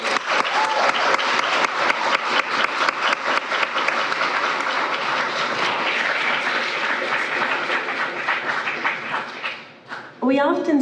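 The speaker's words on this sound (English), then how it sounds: "help me congratulate him with a round of applause" A lecture hall audience at a college honors plenary breaks into sustained applause for a poet nominated for the National Book Award. The clapping is dense and steady for about ten seconds, then fades as a voice begins speaking.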